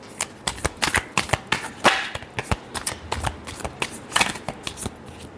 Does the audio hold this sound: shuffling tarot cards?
yes